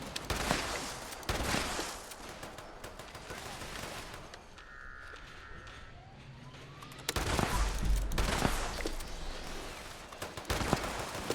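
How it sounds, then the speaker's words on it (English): Shotgun fire in the video game Fallout 76: dense, noisy bursts of gunfire with a quieter lull between them, loud and close throughout. "Man, shotguns are so much fun in Fallout."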